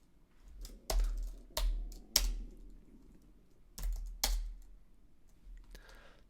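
Someone types a short keyword on a computer keyboard in a quiet room: a few sharp, separate keystrokes spread across several seconds, close and clear with no talking.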